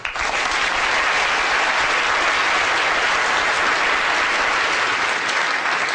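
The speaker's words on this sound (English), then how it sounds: "let's have a big round of applause for a small brain" Audience at a 2011 brain lecture breaks into steady, dense applause, loud and sustained throughout with no talk over it.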